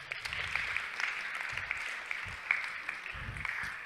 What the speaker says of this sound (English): Round of applause for Mr. Hartig.